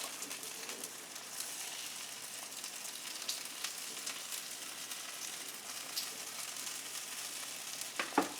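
Prawns sizzle steadily in a hot pan while Vietnamese food is cooked, a dense, even frying hiss with faint crackles, heard alone and close throughout.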